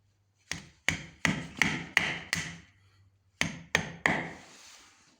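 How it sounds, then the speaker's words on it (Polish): A hammer drives a wedge into a hollow building block for a wall anchor: six sharp, evenly spaced blows, a pause, then three more, each ringing briefly and close. "młotek"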